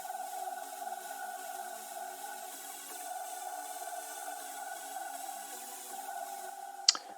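An electronic track's build-up with a synth lead and chords playing steady, sustained tones that drone together at a low, even level. A short bright flick sounds near the end.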